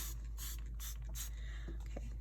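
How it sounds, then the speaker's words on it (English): A fine mister sprays ink onto a card in four short, soft hissing bursts spaced roughly evenly, close by and quiet, with no talking. "I'm going to get a fine mister."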